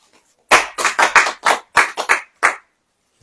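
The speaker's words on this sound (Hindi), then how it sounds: "ताली बजाएं।" A congregation at a Christian sermon gathering claps in a short burst of about nine sharp, loud, slightly uneven claps, heard alone before falling silent.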